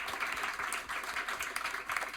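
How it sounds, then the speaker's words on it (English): An audience applauds after a film screening, with a dense patter of many hands clapping at moderate level, continuing steadily throughout. "So can we have a round of applause, please, for Phil and Lou?"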